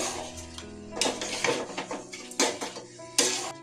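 A spoon or spatula stirs spices mixed with yogurt in a metal pan for chicken do-pyaza, making repeated clanking scrapes against the metal, with several louder knocks spaced through the stir and no voices.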